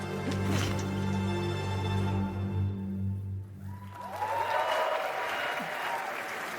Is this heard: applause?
yes